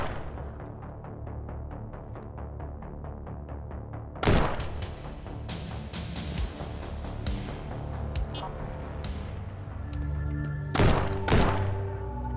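Gunfire in the VR shooter Shotwood VR, with sniper rifle, M14 and Mac-10 weapons: a quick train of light popping shots at first, then several loud, sharp single blasts spaced apart over a low rumbling backdrop.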